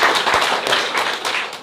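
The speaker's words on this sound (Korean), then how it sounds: "자, 그러면 박수 더 크게 한번 칠까요?" Audience members at a scholarship foundation anniversary gathering clap together, a brisk, loud burst of close, steady hand claps with no talking over it.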